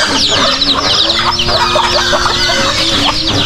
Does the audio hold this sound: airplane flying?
no